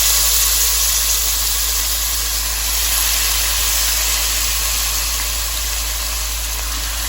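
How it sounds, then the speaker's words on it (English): Beef searing in hot oil in a very hot pot, a steady broadband hiss and sizzle that holds evenly loud and close throughout, with no talking over it. "I'm gonna add a little oil to it, okay? And I'm going to start cooking the meat"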